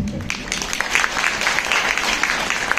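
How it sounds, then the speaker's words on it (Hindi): A women's meeting breaks into steady, dense applause from a crowd of many hands, close and continuous without pause. "अपने लिए एक बार ताली बजा दो।"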